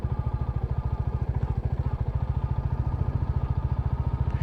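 A Royal Enfield Classic motorcycle thumps along off-road, its single-cylinder engine beating in an even, rapid pulse that stays loud and close throughout, with no voices.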